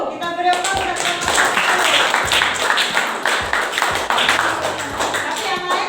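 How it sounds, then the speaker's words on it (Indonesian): A class applauding group 1 after a classroom discussion, with many hands clapping briskly and fairly loudly for several seconds, uneven sharp taps mixed with some voices. "Kita beri aplaus untuk kelompok"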